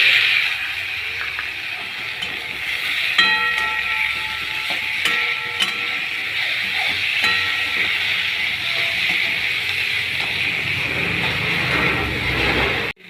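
Tomatoes fry with ginger and green chili paste for a fish curry with potatoes, giving a steady close hiss with occasional clinks and scrapes of a utensil against the pan.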